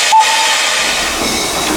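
Brocken steam train in the Harz mountains pulling away, a short whistle tone near the start followed by a steady hiss of steam and rolling rail noise, fairly loud and close, with no talk.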